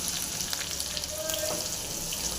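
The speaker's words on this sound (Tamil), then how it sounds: "நல்லா வதங்கட்டும் நல்லா வெங்காயம் வந்து வதங்கியிருக்கு" Chopped onions fry in hot oil with mustard seeds, a dense, steady sizzle that stays loud and even throughout, with a faint stir partway through.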